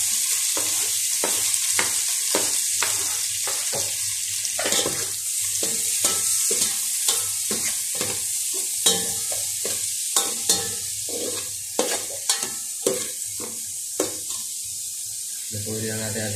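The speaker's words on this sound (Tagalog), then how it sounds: "Lutuin na natin ating sibuyas." Onions sizzling and frying in a pan, a continuous bright hiss broken by repeated scraping stirs and clinks of a utensil, close and fairly loud.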